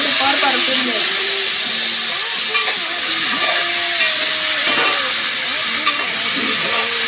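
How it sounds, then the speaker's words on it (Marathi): Potatoes frying in ghee give a steady broadband hiss that runs the whole way, with occasional stirring scrapes and faint voices underneath. "बटाटे थोडे तुपावर परतून घ्यायचे"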